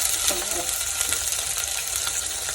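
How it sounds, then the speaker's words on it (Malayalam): Garlic, curry leaves and onions sautéing in a pan for a home-style chicken curry, a steady loud sizzle with occasional stirring scrapes throughout. "അപ്പോൾ നമുക്കിത് നന്നായി വഴച്ചെടുക്കാം"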